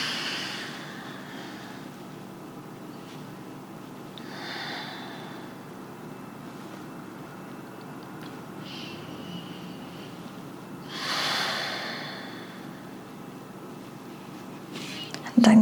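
Slow, deep breathing during a yin yoga session: soft, airy inhales and exhales spaced several seconds apart, close and quiet over a low room hush.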